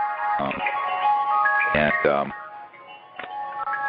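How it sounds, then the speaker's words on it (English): An incoming-call ringtone with a tinkling ice-cream-truck melody plays in repeated bursts, fairly close, with voices around it. "So sounds like an ice cream truck."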